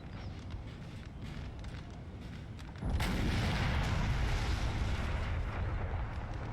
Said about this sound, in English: I'm firing 3 war cannons here.